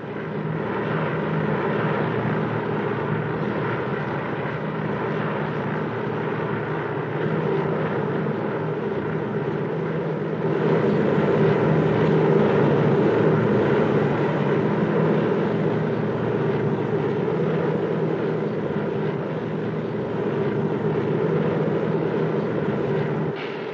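A plane in flight gives a steady engine drone and rushing hum inside the cabin, constant and moderately loud, swelling slightly partway through.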